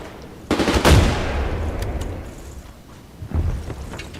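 Gunfire in Medal of Honor: a loud burst of shots near the half-second mark trails into a rumbling decay, then a second, shorter volley comes near the end.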